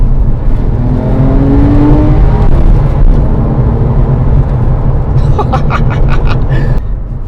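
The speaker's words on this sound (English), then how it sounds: "So coming out of a corner like this, the nose tucks in, squeeze the throttle." Porsche 911 997.2 engine pulling hard out of a corner, a loud, close rising engine note with road rumble throughout and a higher whining rev near the end, with no one talking.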